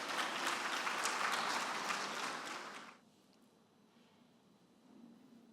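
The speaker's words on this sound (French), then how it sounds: "applaudissez pour vous tous" Applause from the audience at a French-language public service ceremony handing out 2025 mission letters: about three seconds of full, dense clapping that ends abruptly, leaving quiet room tone.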